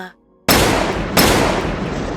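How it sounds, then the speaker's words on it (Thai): Two loud, sharp gunshots from two guns in quick succession, the second less than a second after the first, each followed by a ringing, echoing tail. "เสียงปืนสองกระบอกดังขึ้นเกือบพร้อมๆกัน"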